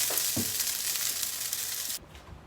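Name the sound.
chili beans cooking in a pan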